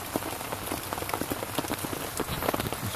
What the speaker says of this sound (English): She's rolling boil. Definitely a rolling boil.